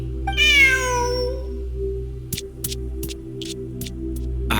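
A cartoonish cat in the video game Genshin Impact gives one clear, fairly loud meow, followed by soft plucky game tones and chimes over a steady background hum.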